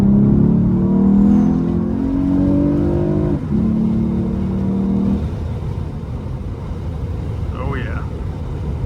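A 2023 Lexus IS 350 F Sport's engine revs up with a rising, throaty exhaust note, then eases off to a steady rumble, heard from inside the car.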